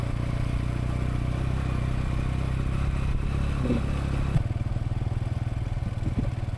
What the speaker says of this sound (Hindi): वो देखो गर्दा उड़ाते हुए निकल गए हैं दोनों के दोनों हिमालयन वाले, एडवेंचर बाइक वाले।